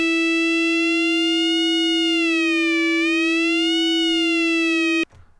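A Native Instruments FM8 synth sounds a steady FM tone with a detuned operator ratio. The single sustained note carries a bright harmonic stack that slowly bends and warbles in timbre, then cuts off abruptly near the end.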